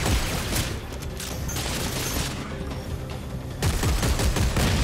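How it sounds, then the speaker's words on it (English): Dense, continuous gunfire and booms from the sci-fi shooter Dead Space 3, with loud bursts at the start and end and sustained rattling in between; a shotgun is fired at human enemies. "I could just shotgun you guys."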